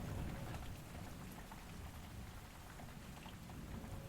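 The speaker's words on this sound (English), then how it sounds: "the rain showers transformed from intermittent to non-stop." Heavy, non-stop rain pours down at a campsite, a dense steady hiss of drops with faint rumbles of thunder in the background and no voices.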